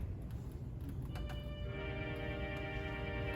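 Voix humaine stop on the Saint Andrew the Apostle Catholic Church pipe organ: a soft, sustained reedy tone swells in about a second into the clip and holds steadily over faint background rustle.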